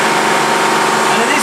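An electric motor with an overload device in a chilled water plant drones in a dense, steady hum with a faint tonal whine, loud and unbroken throughout.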